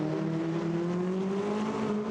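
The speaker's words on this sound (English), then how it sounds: "the Dan Mackay, number 14, McLaren there, way up the curve, going into the Variante Rogia, should get its lead back now" A GT4 race car at Monza, likely a McLaren, drives through a braking chicane with a steady loud engine drone whose pitch glides slowly upward, and no voices.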